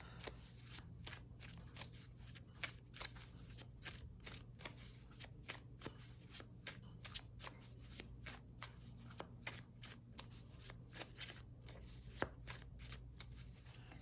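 Tarot cards being shuffled in quick repeated riffles and slaps, a soft, even rhythm of papery flicks continuing for the whole stretch, close and quiet with no voice over it.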